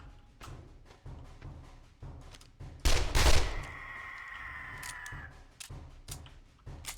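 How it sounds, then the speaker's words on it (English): SMG bursts from the survival game 5 Days to Die, sharp rapid volleys repeating across the span with one louder, heavier blast partway through, no voices. "Thank goodness for the SMG."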